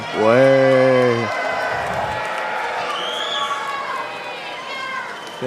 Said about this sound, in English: if you think your country's going to win, I want to hear you cheer